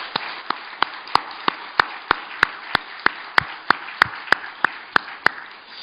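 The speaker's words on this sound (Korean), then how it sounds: "하나님께 영광의 박수를 올려드립니다." A church congregation claps in slow, steady unison during a Korean worship service, about a dozen sharp, evenly spaced claps ringing out loud and close over a faint background.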